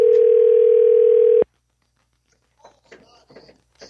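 A steady, loud telephone dial tone drones for about a second and a half while a call is being placed, then cuts off abruptly, followed by faint talk.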